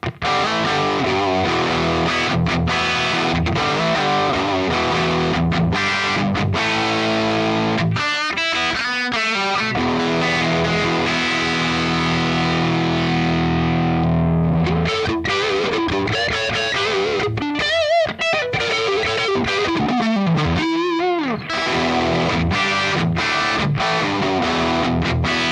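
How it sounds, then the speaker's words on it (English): A distorted electric guitar through a Kemper profile of a Marshall 2203 amp plays loud, crunchy riffs and chords with sustained notes and brief pauses, alone with no voices. "And that's once again a very recognizable, iconic, based on Marshall sound."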